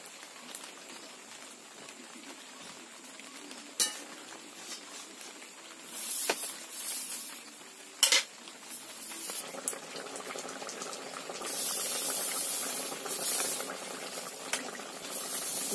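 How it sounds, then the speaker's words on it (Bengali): Fish and young gourd simmer in a bubbling curry in a pan, with a spatula occasionally scraping and stirring through the pot, a steady low sizzle and boil throughout and a few sharper clinks. "এবার মাছটা দিয়ে খুন্তি দিয়ে একটু নাড়িয়ে দিচ্ছি এভাবে, যাতে মাছটা ভেতর পর্যন্ত চলে যেতে পারে।"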